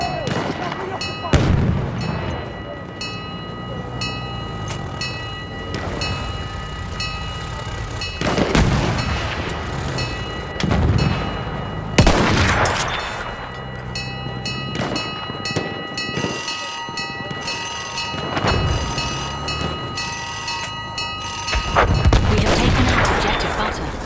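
Heavy enemy artillery barrage in the video game Battlefield 1: repeated loud booming blasts land every few seconds over a constant rumble of battlefield noise.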